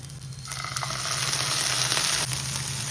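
Sweet corn sizzling steadily in a pan after water is added, a loud continuous hiss and crackle close by with a brief stirring scrape, no talk.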